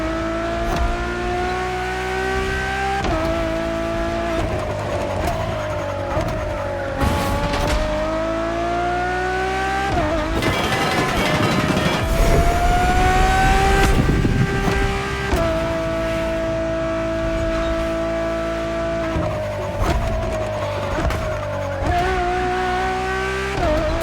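A Ferrari Enzo supercar racing in The Crew Motorfest, its engine revving up and down through gear changes with a rising and falling whine, tire squeal and skidding through corners, loud and close throughout.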